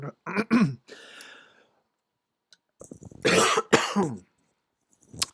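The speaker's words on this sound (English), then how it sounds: "this cough is still getting me." Two bursts of harsh, close coughing separated by a quiet pause, each a quick cluster of throaty hacks, with a faint breath at the end.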